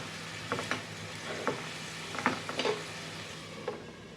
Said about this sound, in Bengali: মশলাটাকে আমি খুব ভালো করে এখন কষাবো।